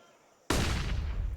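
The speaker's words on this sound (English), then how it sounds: "A warning by form of flashbang" A flashbang grenade going off in a Counter-Strike match at a pro esports tournament, one sudden loud bang after near silence that rings out as a sustained noisy roar.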